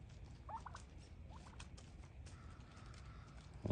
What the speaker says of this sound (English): turkeys are just absolutely gorgeous